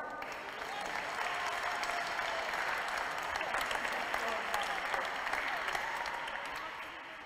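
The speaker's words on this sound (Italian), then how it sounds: "Un applauso ancora" Steady, dense applause from a congregation during a Catholic Mass in church, a full wash of clapping that swells quickly and holds evenly for several seconds before easing slightly.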